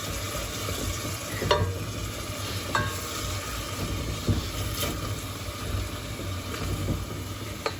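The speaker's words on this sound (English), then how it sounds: "Giving them a light, gentle stir" Gentle stirring and light scraping of toasted pecans and radicchio in a pan over a soft steady sizzle, with a few brief clicks of a utensil against the pan.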